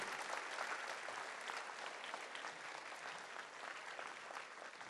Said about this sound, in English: A real big round of applause to all the teachers of that section.